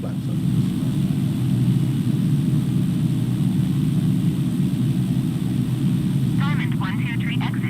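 Diamond light aircraft engine droning steadily on the runway with flaps set, a loud continuous low hum, with a voice heard briefly near the end.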